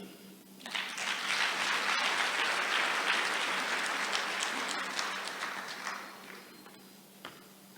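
Audience applause at the closing ceremony of an annual conference in Sun City: a broad, steady wash of many hands clapping that swells quickly, holds for several seconds, then tapers off, with a few isolated claps at the end.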